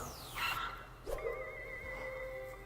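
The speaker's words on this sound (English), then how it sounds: "Is that a dog?" A dog gives a couple of short, high yips and barks up close, followed by a sustained whine-like tone over a low steady hum.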